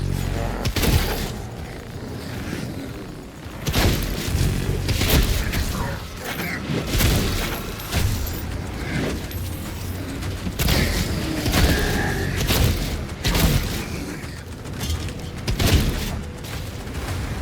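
Shotgun blasts in the video game Doom: The Dark Ages, repeated loud booming shots at irregular intervals amid mechanical clanks and combat noise, close and dense, with occasional voice in the mix.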